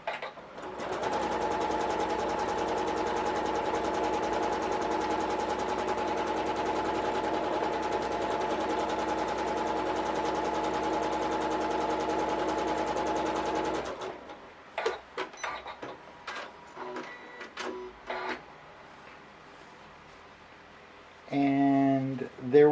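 A Janome MC1200 sewing machine stitches a quilt block in one long, even run of rapid needle chatter lasting about fourteen seconds, followed by quieter handling clicks and a brief voice near the end.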